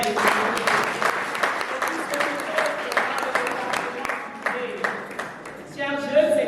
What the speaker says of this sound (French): je vais demander une salle d'applaudissements pour la APADER